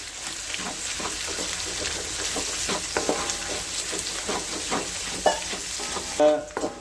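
Fresh curry leaves frying in hot oil with onions for a Tamil prawn fry, a dense steady sizzle broken by crackles and scraping stirs, with a sharper burst of spattering near the end.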